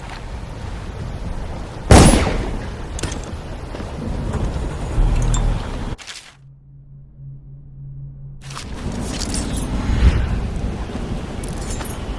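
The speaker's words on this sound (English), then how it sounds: "I know a gunshot when I hear one, and that was definitely a gunshot" A loud, sharp gunshot cracks out once in the Dishonored video game, followed by a few fainter impacts over ambient game noise, then a near-silent pause with a low hum before the background returns.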